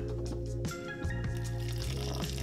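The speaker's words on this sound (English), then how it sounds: "I'm gonna add some water." Water poured into a hand blender cup over habanero salsa ingredients, a close, continuous trickling splash with a low hum beneath that lasts the whole moment.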